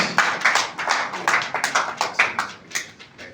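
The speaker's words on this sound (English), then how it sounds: "A big round of applause for him, please." An audience at a Nigerian political event applauds a speaker. The clapping is loud and close and comes in bursts with brief dips. It runs steadily for several seconds, then begins to thin out toward the end.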